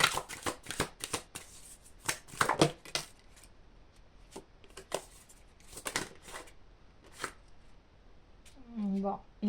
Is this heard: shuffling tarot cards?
yes